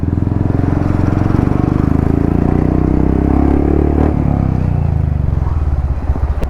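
Royal Enfield Meteor 350 motorcycle fitted with an aftermarket RRP exhaust, idling loud and close in a steady, throaty rumble before the throttle is blipped, with engine note rising and falling.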